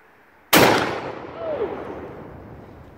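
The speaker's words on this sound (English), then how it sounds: "We're gonna try and avoid that and pull the rear trigger and see how we pattern at 20 yards." A 10 gauge coach gun shotgun fires once from the rear trigger outdoors, a single loud close blast that rings out and fades over a couple of seconds.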